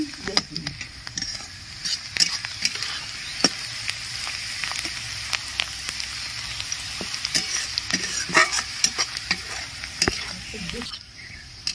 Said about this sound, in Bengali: পেঁয়াজটা আমার লাল করে ভাজা হয়ে গেছে